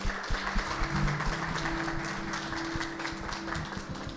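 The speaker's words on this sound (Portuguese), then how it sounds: "vou pedir a vocês ajuda para a gente receber ela com uma grande salva de palmas aqui na frente" An audience applauds to welcome a speaker to the front, with scattered claps over a steady low hum and a faint background murmur.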